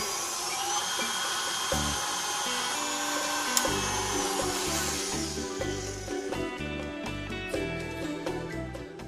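An electric mixer with a whisk attachment whips eggs for tiramisu, a continuous high whirring hum with rhythmic clattering of the whisk against the bowl, close and steady throughout.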